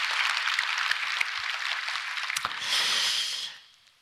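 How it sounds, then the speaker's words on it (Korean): A church congregation claps in thanks during a Korean Sunday worship service on Liberation Day, a dense wash of hands filling the room for a few seconds before a brief swell and fade at the end. "자유를 주신 하나님께 박수로 감사합니다"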